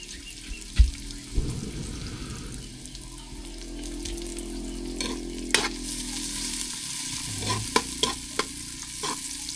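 Food cooking in a pan over smoky heat, with a steady close sizzle, scraping stirs and a run of clanks and taps from the utensil, plus a short splash of water.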